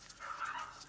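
Pet pugs giving short, yappy barks mixed with whimpers, close by and fairly steady over a brief moment, with no talking.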